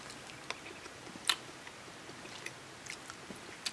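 Someone takes a first bite of spicy stir-fried eel, giving a few faint, sparse crunchy bites and chewing clicks close up, with one sharper snap near the middle and otherwise near-quiet.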